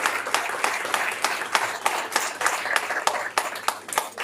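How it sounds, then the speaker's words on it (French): Applause at a press conference for the Choc des étoiles 2023 event, honoring Lionel: a steady run of many hands clapping with sharp individual claps standing out, fairly close and sustained throughout, with no talking. "je voudrais qu'on fasse du bruit, qu'on applaudisse Lionel et tous les gens qui sont autour de Lionel"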